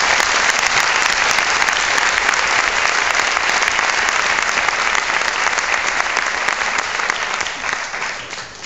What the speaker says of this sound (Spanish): Un fuerte abrazo de agradecimiento y un caluroso aplauso.